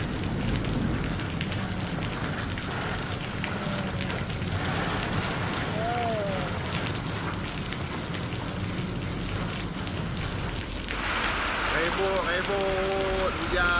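Heavy rainstorm with thunder in Selangor, Malaysia, strong enough to lift roof sheets: a steady, dense wash of rain noise runs throughout, with agitated voices talking and crying out over it, and louder near the end.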